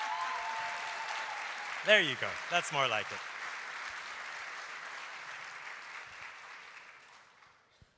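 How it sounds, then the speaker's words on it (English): A studio audience claps for Hillary Clinton as a guest at the Doha Forum 2025, a steady broad round of applause that fades out over several seconds while someone speaks briefly over it. "I'm going to ask for one more proper warm round of applause for our guest"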